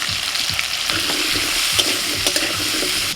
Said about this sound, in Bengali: আলুটা একটু ভেজে নিয়ে